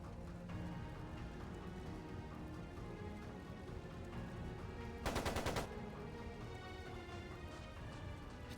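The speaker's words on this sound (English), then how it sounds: "It sounded like a machine gun." A short, dense burst of machine gun fire from the video game Trails of Cold Steel II, cracking out over a rumbling, busy background of game sound and music, loud and close for about half a second.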